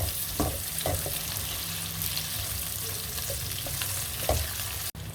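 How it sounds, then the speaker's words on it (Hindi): Arbi (taro) pieces fry with onion in a pan, a steady close sizzle broken by a few soft stirring knocks and one sharp tap near the end. "अरबी को मैं इसलिए प्याज के साथ फ्राई कर रहा हूँ"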